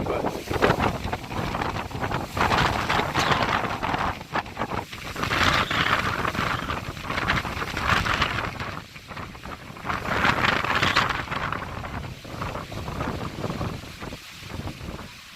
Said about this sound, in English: You're not going to be able to hear me very much because the wind is really whooping